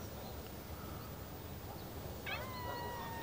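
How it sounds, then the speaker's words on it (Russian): A domestic cat gives a single drawn-out meow partway through, fairly clear over a soft, constant background hiss with no talking. "Кто сказал мяу?"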